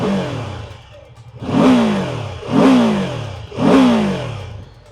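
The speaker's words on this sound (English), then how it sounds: "So this 135-degree firing order is unique, and it sounds somewhat like a 270 twin" A BMW F 450 GS motorcycle with its 135-degree firing order is revved three times in quick succession, each blip rising sharply and falling back to a lumpy, uneven idle, close and loud.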